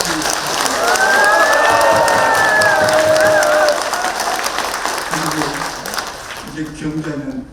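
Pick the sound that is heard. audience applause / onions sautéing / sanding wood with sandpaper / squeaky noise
audience applause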